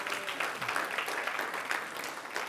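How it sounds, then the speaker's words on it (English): Applause from an audience at a speaking seminar, a fairly dense and steady wash of clapping held at moderate level throughout with no talk over it. "Give yourselves a round of applause for that"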